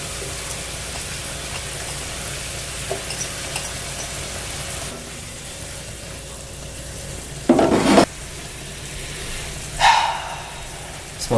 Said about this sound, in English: Next I'm going to add the onions. So just sprinkle it around.